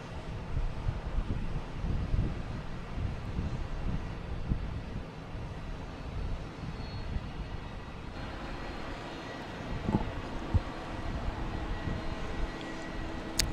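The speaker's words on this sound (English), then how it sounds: "So we have a Delta takeoff heading to Columbus." A Delta airliner taking off at Boston Logan, bound for Columbus, makes a steady broad roar of jet engines. The roar is heard at a distance, with gusts of wind buffeting the microphone throughout.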